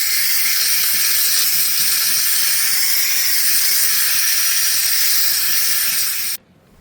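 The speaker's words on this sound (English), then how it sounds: "I also have the gun set for full steam." A steam cleaner gun on full steam blasts a continuous loud hiss while cleaning a seat belt, cutting off abruptly near the end.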